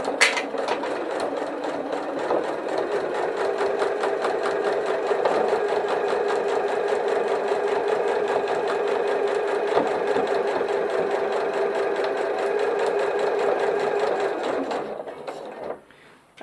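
A sewing machine stitches a fabric glasses case in one long, steady run, its rapid needle chatter loud and close for about fifteen seconds before slowing and stopping.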